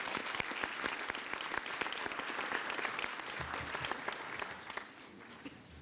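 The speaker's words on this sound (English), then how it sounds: "give all of these leaders, yourselves, and those that are not with us today a round of applause" Round of applause from a gala audience at a JROTC event, dense sustained clapping filling the room for several seconds before thinning out near the end.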